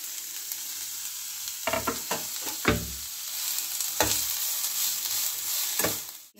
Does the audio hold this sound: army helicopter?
no